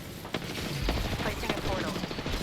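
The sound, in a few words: gunfire in video game Apex Legends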